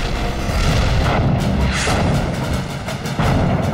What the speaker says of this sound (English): it begins with a massive artillery barrage